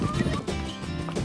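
A horse on a countryside riding tour near Viñales whinnies and clip-clops along the trail, the neigh and hoof beats close and clear over a little over a second.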